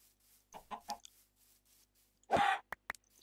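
Minecraft chickens cluck on a farm in the game, with a few soft clucks followed by a louder, closer burst and two short sharp notes, no speech.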